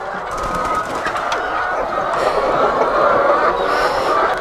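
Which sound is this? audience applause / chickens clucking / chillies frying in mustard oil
chickens clucking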